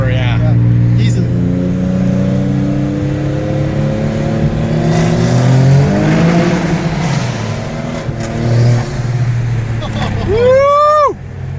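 A twin turbo Infiniti G37 coupe accelerating hard, a loud rising engine roar heard from inside through gear shifts, with a final sharp rev and whistle near the end; voices can be heard beneath the roar.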